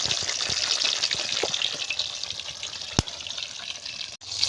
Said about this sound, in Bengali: মাছটা কিন্তু হেভি ভাজা হচ্ছে তাই তো?